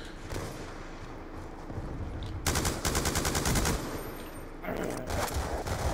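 Gunfire in the multiplayer video game Black Ops 2 comes as rapid automatic bursts: a long, loud, close volley, a pause, then another burst, with brief speech in between.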